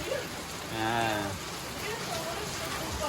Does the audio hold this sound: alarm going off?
no